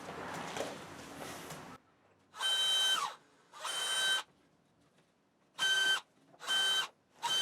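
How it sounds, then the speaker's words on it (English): A power drill whirs in four short bursts separated by pauses while pre-drilling holes, close by, following a stretch of rustling handling noise. "I'll pre-drill some more here now."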